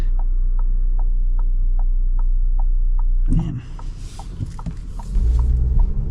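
A 2026 Volkswagen Tiguan R-Line with a big turbo runs with a steady low hum and a faint regular ticking, then pulls away into a louder, rougher rumbling surge that builds toward the end.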